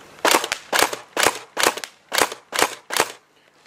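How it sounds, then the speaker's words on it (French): A Tokyo Marui AA12 airsoft shotgun with a drum magazine fires seven loud, close, evenly spaced shots, each a sharp crack with a short mechanical tail, at a quick steady rhythm. "Là on tire encore à vide, mais néanmoins de temps en temps il y a des billes qui réussissent à remonter quand même."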